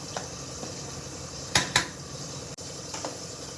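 Gobindobhog rice being mixed in a wok with fried vegetables, a steady low sizzle under a few sharp scraping clinks of a spatula against the pan, close and alone with no voices.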